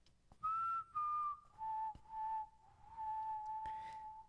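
Clear melodic whistling from the BTS Wings short film, a run of sustained and short notes that drop to a lower held pitch, alone over a quiet background.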